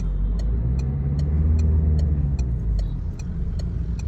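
A Peugeot 301 engine idles at steady revs with a continuous low rumble, heard from close by, while a faint regular ticking repeats throughout.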